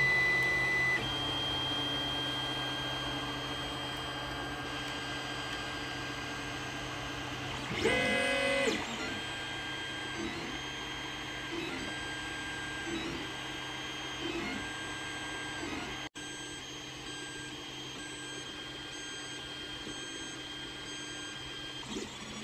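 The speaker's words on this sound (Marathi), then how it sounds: "हे बघा आता आपली पहिली लेअर प्रिंट होते आणि नॉझल वाईप होत आहे बेडवर घासून" A 3D printer lays down its first layer, its stepper motors whirring and buzzing in a steady drone with a brief louder burst as the nozzle wipes across the bed, then short rhythmic motor pulses.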